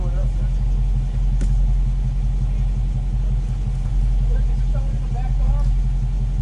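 A 2015 Dodge Charger SRT idles at Summit Point Motorsports Park with a deep, steady, close rumble that continues unbroken throughout, while people talk faintly in the background.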